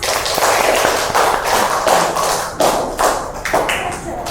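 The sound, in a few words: classroom applause for a student group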